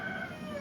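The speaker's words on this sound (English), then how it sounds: "The rooster is very talkative today." A rooster crows on a homestead during home pressure canning of bone broth, a brief sustained call with no talk over it.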